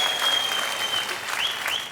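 Applause from a television game show studio audience, a brief even wash of many hands under a sustained electronic tone.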